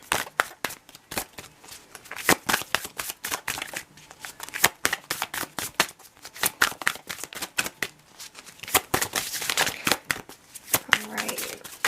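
An Elemental Oracle card deck is shuffled by hand in rapid, irregular riffling bursts, close and crisp, with short pauses between rounds.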